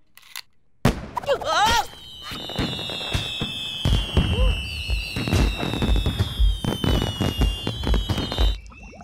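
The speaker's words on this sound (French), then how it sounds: "Des feux d'artifice, des fusées." Cartoon fireworks and rockets at a town festival whistle upward and burst in a rapid series of loud pops and crackles, with rising shrieks and high whistles between the bangs and brief voices in the mix.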